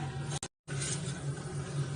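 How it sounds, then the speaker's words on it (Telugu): Ghee, sugar and a ground paste being stirred together in a pan over low flame, a close, steady scraping and swishing with a brief clink and a short silent gap near the start. "లో ఫ్లేమ్లో పెట్టుకొని ఇలా మొత్తం అంతా కలిసేటట్లుగా కలుపుకోవాలి"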